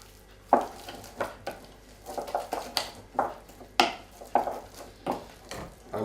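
Metal spoon scraping and knocking against a pot while stirring butter into hot mashed potatoes, a dozen or so irregular clinks and scrapes spaced across several seconds, close and moderately loud, with no talking.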